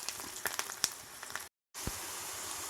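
Onions frying in a pan, a steady close hiss of sizzling oil with small crackles, briefly cutting out to silence before the sizzle resumes.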